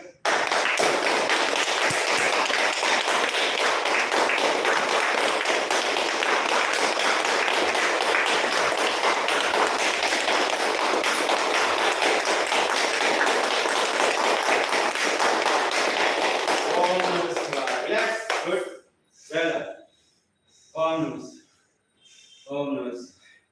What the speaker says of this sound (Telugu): అందరూ చప్పట్లు కొట్టండి గట్టి గట్టిగా